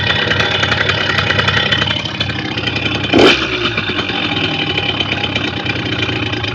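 A Simson S51 motorcycle engine idles with its idle stabiliser switched off, so the revs drift lower and wander unevenly. The engine chugs steadily and loudly up close, with a short harsh burst partway through and no voices.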